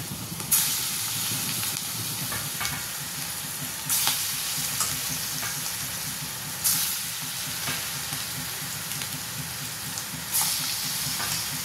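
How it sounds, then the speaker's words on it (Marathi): Small bhajis of soaked lentil batter drop into hot oil on a stove and fry with a loud, continuous close hiss, marked every couple of seconds by sharper bursts as more batter goes in. "थोडी भजी टाकायची, छोटे छोटे भजी टाकायची। थोडा गॅस कमी करायचा, टाकायचं।"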